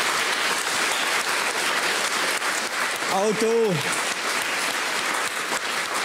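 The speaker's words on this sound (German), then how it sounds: "eigentlich einen Applaus für das, oder?" Studio audience applause at a Swiss German talk show, a steady wash of clapping throughout, with a brief voice speaking over it partway through.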